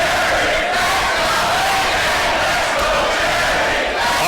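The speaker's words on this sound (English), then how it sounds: "Listen to this crowd once again, Joe Dombrowski." Wrestling arena crowd cheering and roaring, a loud, continuous, dense wall of voices that holds steady throughout.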